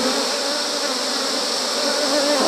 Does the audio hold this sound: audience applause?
no